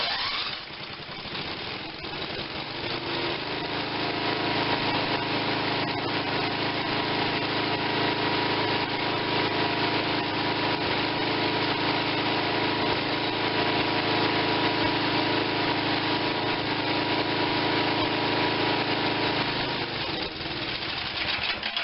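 A Tecumseh 5.5 hp small engine with a stuck valve runs steadily for around twenty seconds, a loud, even mechanical drone with a constant pitch and no talking.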